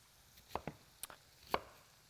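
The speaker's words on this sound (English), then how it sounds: "I'm also going to chop one medium-sized onion." A medium white onion being chopped with a knife, a few sparse, quiet, sharp cuts against a board, close but soft, with near silence between strikes.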